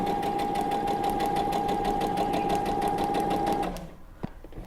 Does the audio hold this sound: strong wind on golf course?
no